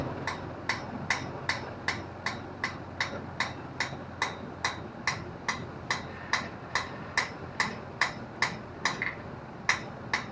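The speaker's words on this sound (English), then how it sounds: "lighter hammer blows, more about accuracy than force" Light, precise blacksmith hammer blows on a forged metal spoon, a steady ringing tap roughly twice per second, each strike sharp and metallic over a low shop hum, with no talking.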